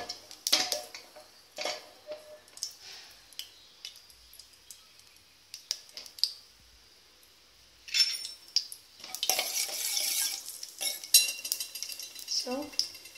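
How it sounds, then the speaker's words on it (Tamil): Cumin seeds go into hot groundnut oil in a pan, giving crisp crackling and sizzling that swells near the end, after scattered clicks and taps of a metal spoon. "எண்ணெய் கொஞ்சம் காஞ்ச உடனே அதில் வந்து சீரகம் போடலாம்"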